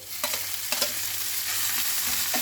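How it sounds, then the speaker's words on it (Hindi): Ginger and garlic sizzle in hot oil with translucent fried onions, a dense continuous hiss broken by a few scraping stirs of a spoon in the pan, close and steady. "अदरक लहसुन को बस 1 से 2 मिनट के लिए हम कुक करेंगे ताकि इसका रॉ स्मेल चला जाए।"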